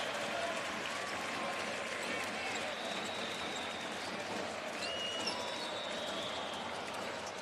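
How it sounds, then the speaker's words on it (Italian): Basketball arena crowd at a Milano vs. Brescia playoff game applauds Nicola Mirotic as he leaves the court, a steady, fairly distant wash of clapping and crowd noise under continuous commentary. "Adesso i cambi con l'uscita ricca di applausi di Nicola Mirotic"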